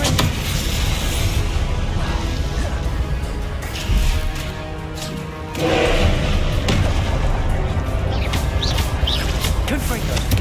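Booming blasts from the Confringo explosion spell in the video game Hogwarts Legacy, heavy thuds and crashes layered over dense battle noise, with a brief lull midway before the din returns.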